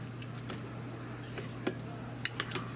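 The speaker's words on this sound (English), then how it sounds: "We're going to give this all a good stir" A Reuben dip mixture in a slow cooker gets a good stir, quiet scraping and squishing with a few sharp clinks of a spoon against the stoneware crock near the end, close-up and without talk.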